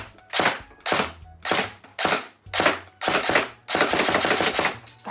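An airsoft Vector rifle fires BBs on test shots with hop-up applied, a string of sharp, loud, close snapping cracks in quick bursts of single shots, with brief gaps between them and no talking.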